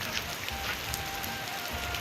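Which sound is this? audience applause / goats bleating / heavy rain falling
heavy rain falling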